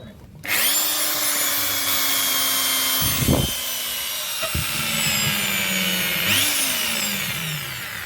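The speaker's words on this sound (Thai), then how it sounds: "ใช้สว่านลูกค้ามีสว่านพอดีนะครับ" An electric drill whines steadily at close range during a Samsung two-door refrigerator repair, briefly dipping in pitch and catching twice as it bites, then spinning back up.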